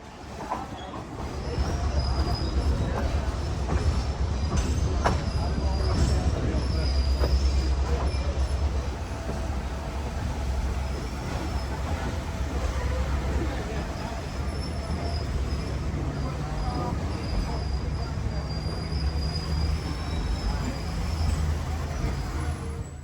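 A Great Smoky Mountains Railroad excursion train rolls steadily along, a constant low rumble of wheels on track with faint high squeals drifting over it, continuous and fairly close throughout.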